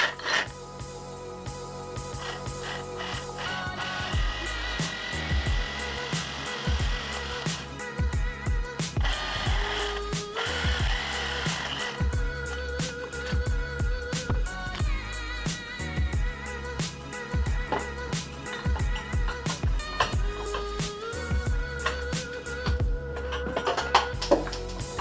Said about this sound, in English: Taking a Sawzall to right there